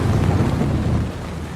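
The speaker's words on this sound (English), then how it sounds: "Halfway through our trip, a massive storm rolled in" Heavy storm noise from a massive storm rolling in during a horseback trip in Chile: loud, steady low rumble of wind and rain, fading slightly toward the end.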